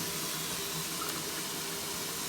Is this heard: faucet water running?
yes